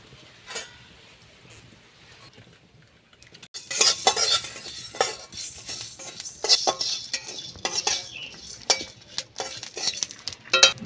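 Whole cumin, coriander seeds and dried chillies are dry-roasted in a kadai wok. After a quiet start, a utensil stirs and scrapes with frequent metallic clinks and scratches, over a faint crackle.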